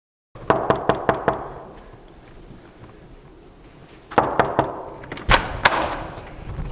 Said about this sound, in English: I'm about to go knock in his apartment door right now.